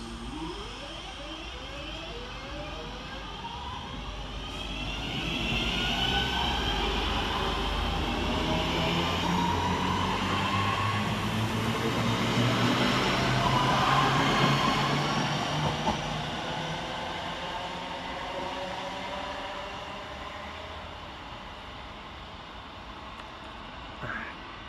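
A Northern class 323 electric train runs through Cheadle Hulme station with a steady, broad rumble and whine that swells and fades over about twenty-five seconds, no voices heard.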